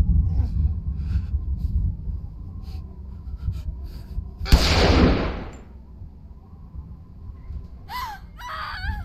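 A single sharp gunshot in The Walking Dead game, a loud close crack with a brief noisy tail that rises out of quiet, tense background ambience, followed by a short vocal sound.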